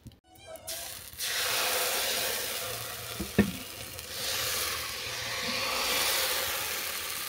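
Rice-and-lentil sorucakli pitha frying in a pan gives a steady, fairly loud sizzle throughout, broken by a brief sharp tap or clatter partway through.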